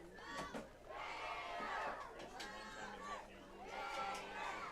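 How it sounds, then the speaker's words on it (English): Crowd noise at a high school football playoff game, Port Allegany vs Otto Eldred, as cheerleaders fire up the stands: a steady roar of many voices with shouts and cheers rising in waves throughout. "Cheerleaders getting the crowd fired up."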